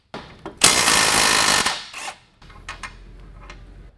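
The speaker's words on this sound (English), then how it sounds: "drill the upper control arm mount for the sway bar link with the same 1/2 inch drill." A 1/2 inch drill boring into a Can-am upper control arm mount, with a loud, sustained grinding whine for about a second before it cuts out, then short quieter bursts and mechanical clicks.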